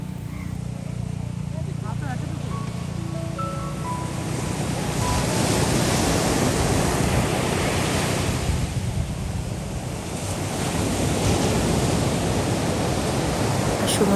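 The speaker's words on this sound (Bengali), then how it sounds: "সমুদ্রের গর্জনটা শুনুন, কি যে ভালো লাগে শুনতে" The sea roars at Cox's Bazar beach at sunset, a loud, continuous broadband wash of breaking surf that swells and recedes, with wind buffeting the microphone.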